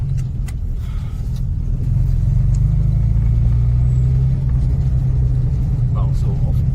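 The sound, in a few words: Austin A125 Sheerline car driving in third gear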